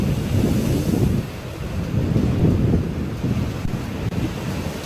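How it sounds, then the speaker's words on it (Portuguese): Strong wind gusts at the waterside buffet the microphone in a low, steady roar, with surging waves blended in and slight swells in loudness and no voices. "Periodicamente, perto da água, ocorrem rajadas de vento muito fortes. Elas são poderosas o suficiente para criar ondas enormes,"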